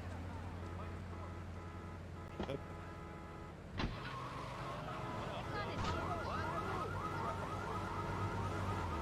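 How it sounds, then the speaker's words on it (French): A car alarm wails in the street in the GTA 3 video game, a looping warbling tone rising in pitch, over car engine hum and a couple of sharp knocks. "Oups, il y avait une alarme."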